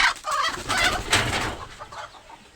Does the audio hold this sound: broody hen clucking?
yes